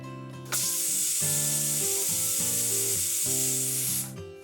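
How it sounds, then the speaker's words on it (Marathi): A pressure cooker cooking Khandeshi masala khichdi vents steam in a loud, steady hiss lasting several seconds, with background music playing underneath. "कुकरच्या 3 शिट्ट्या होण्याची आपण वाट बघूया।"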